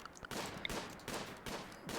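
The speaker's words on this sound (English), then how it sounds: "lots of gunfire" Scattered gunfire from hunting animals in the colony game RimWorld, a run of several muffled shots with brief gaps, steady and moderately loud, with no talking.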